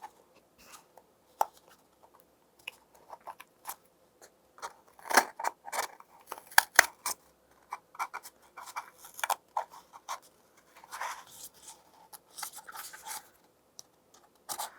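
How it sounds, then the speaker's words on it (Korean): Scissors snip through a paper cup being cut into a stand, giving irregular crisp clicks and short cutting rasps, close and quiet, spread across the whole stretch with pauses between cuts and no talk. "먼저 종이컵을 가위를 이용해서 잘라주세요"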